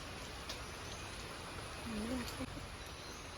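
Steady rain falls with a soft, even patter, with a brief faint sound partway through.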